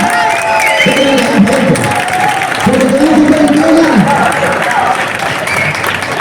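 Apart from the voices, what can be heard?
crowd applauding and cheering at a race start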